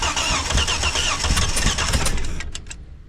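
The engine of a Holden HQ One Tonner cranks and catches, running loud and rough, close by for about two and a half seconds before cutting off into silence.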